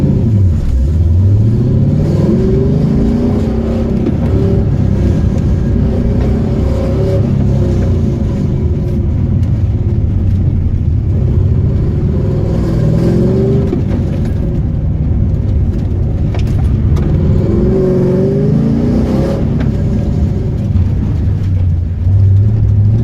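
A Pontiac GTO engine revs hard during an autocross run, loud and close, rising and falling repeatedly with gear changes and throttle lifts over a continuous rumble.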